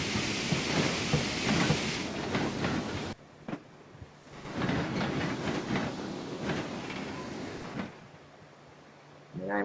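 Class 2F Dock Tank steam locomotive in Train Simulator 2015 on the Falmouth Branch, shunting wagons: steady rolling rumble with clanks and hissing, a brief drop near the middle, then the mechanical noise resumes, with faint speech at moments.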